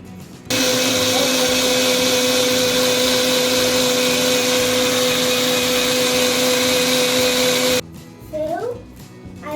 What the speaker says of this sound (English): I'll put the lid of this mixer and close it, and then I'll blend it.